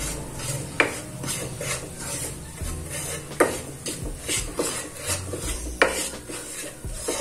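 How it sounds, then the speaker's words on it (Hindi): Spiced moong dal filling for kachoris is mixed in a pan, with rhythmic rasping scrapes of a utensil and a few sharper knocks against the metal, close and steady. "इसे अच्छे से मिक्स करेंगे"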